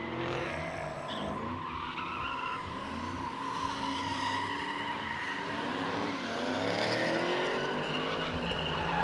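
A supercharged 5.4-litre Ford GT500 drifts at a test-and-tune session at a drift pit, its tires squealing in a long, continuous screech over a loud, steady engine roar.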